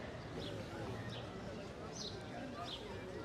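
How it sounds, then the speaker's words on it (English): Birds chirp in Paris on a Sunday afternoon, giving a few short, repeated calls over a busy, murmuring street background. "I hear all the birds."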